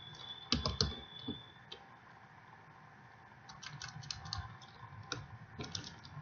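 Computer keyboard typing code for a C# quiz system, with bursts of quick close clicking keystrokes separated by pauses, quiet and with no voice over it.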